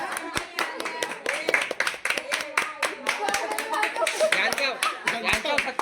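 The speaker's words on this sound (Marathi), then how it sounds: "टाळ्या वाजवा." A group of people clap together at a Marathi engagement celebration to honour those who made the decorations, a dense, lively patter of hands close by with voices talking over it.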